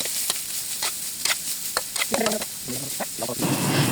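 Garlic, onion and carrots sautéing in oil in a pan for a Filipino cabbage dish, a steady sizzle with scraping stirs and clinks from a spatula, close and fairly loud, with the frying growing more intense at the end.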